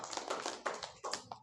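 An audience in a school classroom or hall applauds a guest speaker, a burst of many hands clapping that stays steady and fairly close for about a second and a half, with no voices.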